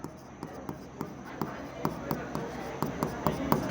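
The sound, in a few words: writing accounting entries by hand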